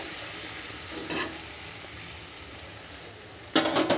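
Milk-soaked bread sizzles as it toasts in a frying pan, a steady close hiss with a soft scrape partway through and a louder burst of sizzling near the end, no talking.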